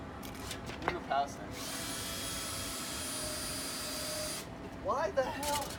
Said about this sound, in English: Why the hell can't drill through this fucking thing?